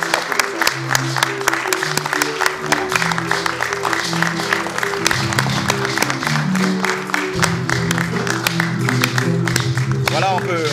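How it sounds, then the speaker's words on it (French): Audience applause at a fashion show runway, steady clapping running throughout beneath loud music with a strong beat. "Merci d'applaudir pour elle."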